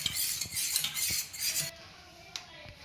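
Spoon clinking against a glass or vessel while black salt powder is stirred into amla juice, several light metallic taps and scrapes close by, quieting after the first half.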